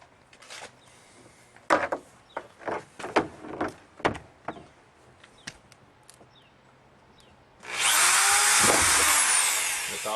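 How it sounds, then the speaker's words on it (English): A few sharp taps and clicks, then a power drill whirs up loudly and runs steadily for a couple of seconds, close by, drilling a hole in a 96-gallon plastic trash container. "So I need to drill a hole."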